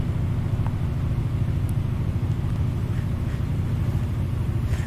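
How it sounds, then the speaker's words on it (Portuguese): A car in the pizza-delivery video game Nibble: Pizza Delivery keeps up a steady low engine rumble while turning, even and unbroken throughout, with no talking. "Ó, ó o carro virando."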